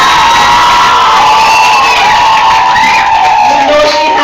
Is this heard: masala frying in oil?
no